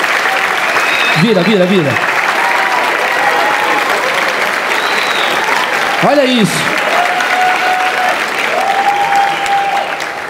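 Loud, sustained applause from a stand-up comedy audience fills the whole stretch, with a voice calling out over the clapping.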